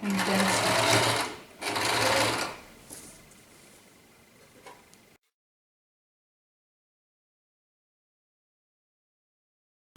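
Sewing machine stitching a dart on a saree blouse, two close, steady whirring bursts of about a second each, then a slower trailing run of stitches before silence.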